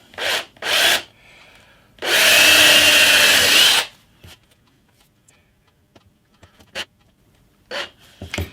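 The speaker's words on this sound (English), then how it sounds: "Of course, what happens is the drill walks." A power drill whirs in a couple of short bursts, then a longer steady run as it bores into a bass guitar's wooden body, followed by light scraping and knocks.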